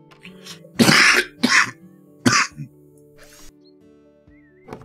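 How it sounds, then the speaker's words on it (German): A man gives several loud, harsh coughs and throat clears close to the microphone, three heavy bursts followed by a quieter one, with stretches of near silence between them. "Es tut mir leid. Mit dem Husten."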